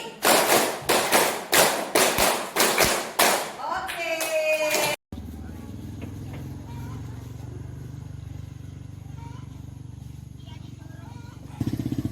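A group claps a counted rhythm of five claps twice, led by a teacher. About ten sharp, loud claps come in quick succession, then stop abruptly, leaving a steady low engine-like hum in the background.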